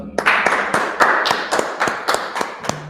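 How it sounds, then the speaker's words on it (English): Scattered, uneven claps from a small audience at a meeting, a handful of sharp hits spaced across a few seconds, close and moderately loud. "let's clap it up"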